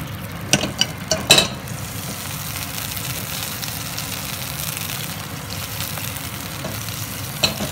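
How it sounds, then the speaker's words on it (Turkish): Oil sizzles and crackles steadily in a hot pan, with a few sharp pops and clatters near the start. "Tavamıza yağını atalım."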